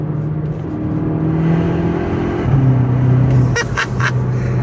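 A Volkswagen GTI accelerating hard in third gear, a steady loud engine drone climbing in pitch with a shift-like step partway through, heard from inside the car with no talk.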